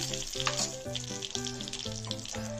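Panch phoron and dried red chillies sizzle in hot oil for a spinach dal, a steady close crackle that continues throughout beneath background music.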